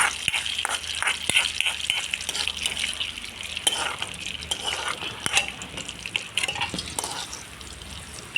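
Fried coconut being ladled into a chickpea curry as tempering, with a busy continuous sizzle and bubbling, plus frequent clinks and scrapes of a spoon against the pan, close and fairly loud.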